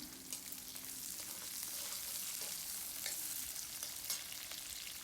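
Garlic and onion frying in a pan, a steady broadband sizzle with a few soft stirring scrapes, close and continuous with no talk.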